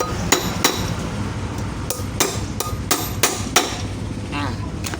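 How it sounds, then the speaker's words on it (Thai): Sharp metallic hammer taps strike a scissors pivot rivet about eight times at an uneven pace, close up, over a low background hum. "นี่นะครับมาค้อนทุบตรงนี้นะครับ"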